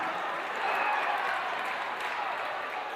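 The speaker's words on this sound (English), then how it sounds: "So that got the crowd excited." A high school basketball crowd in a gym cheers and claps steadily after a blocked shot in a Woods Cross vs. Viewmont boys game, a dense, loud roar held for the whole stretch.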